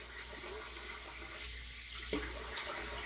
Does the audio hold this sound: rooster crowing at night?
no